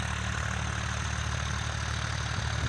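A tractor engine runs at a steady idle in a field during peanut sowing, a constant low rumble with a throbbing chug that stays even and close.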